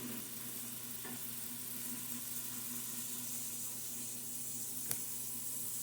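Potatoes and peas sizzle steadily in a hot pan, a continuous close frying hiss with a couple of faint clicks and no talking.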